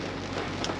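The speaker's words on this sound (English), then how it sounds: "rain" Rain pours steadily on a tropical far-north bush track, a dense, even hiss of drops hitting surfaces up close with no pauses.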